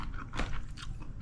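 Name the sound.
crunching refried crispy lechon skin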